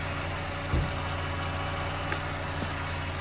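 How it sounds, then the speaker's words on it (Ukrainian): A Volkswagen Jetta engine runs steadily at idle, a low even hum with a faint knock or two. "Робота двигуна."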